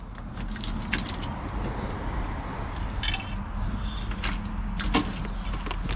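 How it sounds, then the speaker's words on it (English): Keys jangle and the ignition of a 1968 Ford F100 pickup is worked, with a steady low rumble and metallic clinks close by, while the engine fails to start. "So let's go turn the key and see if it'll crank."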